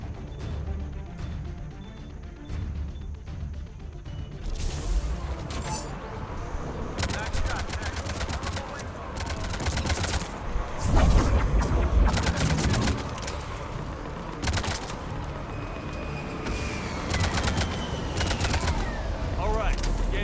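Rapid gunfire against Reapers in a sci-fi shooter, crackling bursts and impacts starting after a few seconds and continuing at close range, with someone talking over the action.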